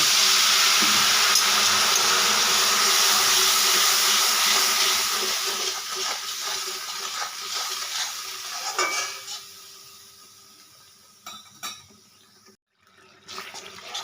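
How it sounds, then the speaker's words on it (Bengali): Water poured into a hot kadai of chili powder, turmeric, Kashmiri chili and salt for aloo dum hisses loudly at first, then fades into soft simmering with scattered utensil clinks and stirring. "কিছুটা জল দিয়ে দেবো।"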